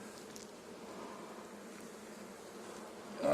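Honey bees hum softly around an opened beehive during a hive check, a faint continuous buzzing drone with a brief louder rustle at the very end.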